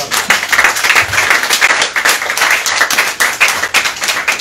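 A church congregation applauds during a French-language worship service, with steady, dense clapping from many hands continuing loudly and evenly throughout.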